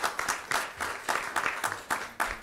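An audience at an academic symposium on justice in Baltimore applauds in a dense, steady wash of clapping from many hands, fairly close and loud throughout.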